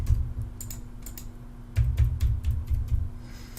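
Keys clatter on a computer keyboard as a password is typed, bursts of quick close clicks separated by short pauses, with no talking.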